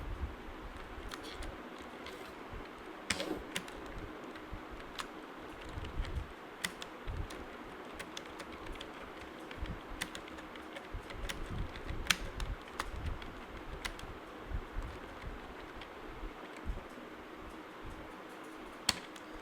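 Computer keyboard typing while text is entered in Microsoft Word, a quiet, steady run of soft key clicks that continues for the whole stretch over a low background hiss.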